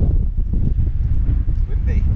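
Strong wind buffets the microphone during an overnight audax bike ride from Bristol to Snowdon, a loud continuous low roar with gusting rises and falls.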